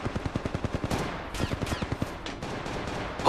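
Rapid automatic gunfire in the mobile shooter Apex Legends Mobile, a steady rhythmic burst of close, loud shots, a brief pause, then more bursts with a heavier blast at the end.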